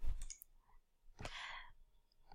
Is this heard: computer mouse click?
yes